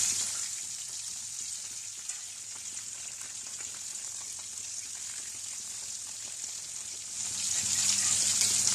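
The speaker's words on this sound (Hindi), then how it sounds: "मीडियम आंच पे इनको फ्राई करेंगे।" Chicken pieces frying in a pan over medium heat for a black pepper chicken roast, giving a steady bright crackling hiss that stays even and close, then swells louder near the end.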